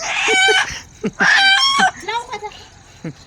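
Loud squawks and cackles from free-range village hens close by, in two long bursts with shorter clucks after, mixed with a few human voices.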